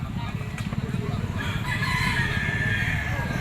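A Golden Boy sweater gamefowl rooster gives a loud, drawn-out crow close by, rising over a busy outdoor background with people talking nearby.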